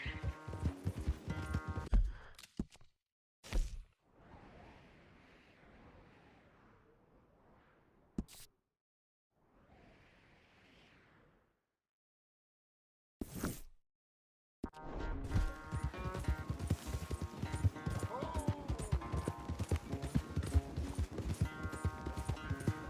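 Horses gallop in a race in Red Dead Redemption 2, with loud rhythmic hoofbeats and game sound filling the end stretch after quieter, near-silent gaps and a few short bursts early on.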